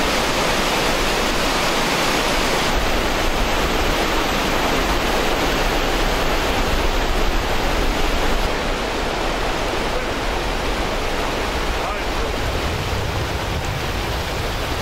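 Floodwater that has submerged the Pelagonia plain rushes below a crossing in a dense, continuous roar, loud and steady throughout, with no voices.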